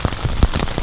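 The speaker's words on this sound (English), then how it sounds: "it's raining not too hard" Steady rain pattering on a surface during a storm in a forest, dense and close with a few heavier drops, no talking.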